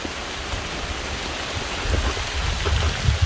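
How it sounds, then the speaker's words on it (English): Rain falls steadily in the woods around the Cornish Estate ruins in the Hudson Valley, a dense, even hiss with heavier patters of drops growing louder toward the end; no one speaks. "Oh, this rain needs to stop."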